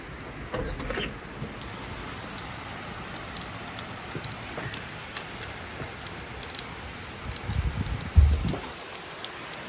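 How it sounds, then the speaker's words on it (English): Steady rain falling and pattering on surfaces outdoors on a morning, a constant soft hiss with scattered drips and a brief louder knock near the end. "it's really raining"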